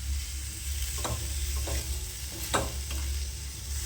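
Crumbled kurdai stir-fried with vegetables in a pan, giving a steady close sizzle with a few sharp scrapes of the spatula against the metal.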